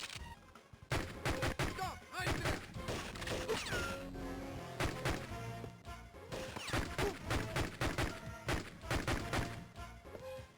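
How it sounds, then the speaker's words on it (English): Glock 18 pistol fire in the Game Boy Advance game 007: Nightfire, rapid sharp shots in repeated bursts over a busy game music backing, fairly quiet overall. "Doesn't exactly fire at a realistic Glock 18 rate of fire"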